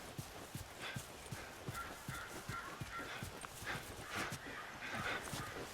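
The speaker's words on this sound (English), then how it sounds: "we definitely need a horse for this bit" Horse hooves clip-clop in a steady, quick rhythm in The Last of Us Remastered, with faint ambient game sounds and an occasional dog-like whimper in the background, fairly quiet overall.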